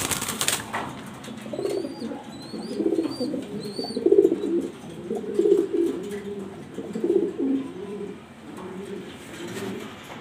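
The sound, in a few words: pigeons cooing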